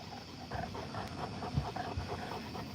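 Boerboel dogs pant close by in quick, rhythmic breaths, a steady huffing that continues throughout at moderate volume.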